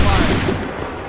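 A musket volley in Assassin's Creed III Remastered: a single loud, dense burst of many guns firing together, with a rumbling tail.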